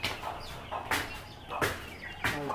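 A chicken clucks close by in a few sharp bursts over a low, noisy background.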